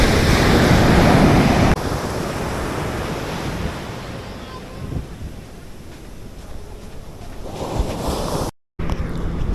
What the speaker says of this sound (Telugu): సూపర్ ఉంది బీచ్ మాత్రం